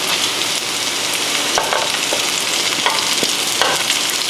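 Carrots, onion and garlic stir-fry in a pan, giving a loud, steady sizzle broken by a few sharp clicks from the stirring utensil.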